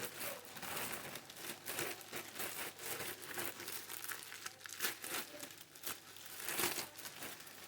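A parcel box from abroad is torn open, with close, continuous crinkling and rustling of wrapping and cardboard interrupted by sharper tearing bursts.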